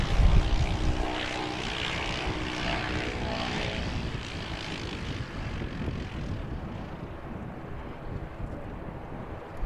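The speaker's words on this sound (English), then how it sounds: "NZ 5625 ATR inbound from Hamilton." An inbound ATR turboprop airliner at Christchurch Airport drones with a steady propeller hum and engine roar, loud at first then gradually fading, with some wind buffeting the microphone.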